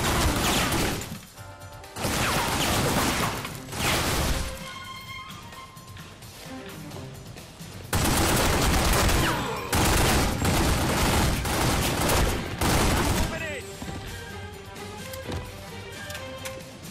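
Gunfire during an assault on the Tattaglia family compound in The Godfather game, with loud, heavy bursts of shooting and crashes coming in several waves separated by quieter stretches.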